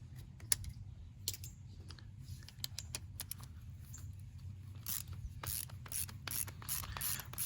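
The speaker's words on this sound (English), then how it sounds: "Go ahead and take this big nut out here." A ratchet wrench works a big 9/16 nut off a neglected Honda generator, giving rapid dry clicking in short bursts over a low steady hum, close and fairly quiet with no talking.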